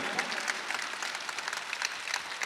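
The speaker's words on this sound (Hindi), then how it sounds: "पूरा पिंडाल तालियाँ बजा दे" Applause from the audience at an All India Mushaira poetry gathering, a short burst of many hands clapping at moderate distance, with faint crowd murmur beneath.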